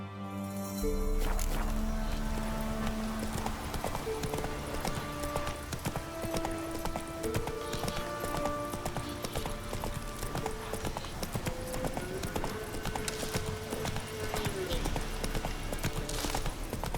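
Horse hooves trotting in The Witcher 3, a steady, close clip-clop rhythm running throughout beneath soft in-game music tones.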